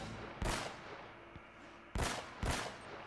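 Enemy gunfire in Uncharted: Drake's Fortune, with three loud, sharp shots, one early and two close together near the end, against a steady background hum.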